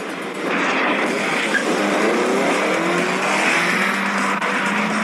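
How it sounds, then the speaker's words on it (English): A Tesla electric sports car accelerates hard at full throttle, a loud, sustained whine rising steadily in pitch with a faint hint of tire noise, close by and with no talking. "Top Gear's Jeremy Clarkson took one out for a spin and marvels as he floors it."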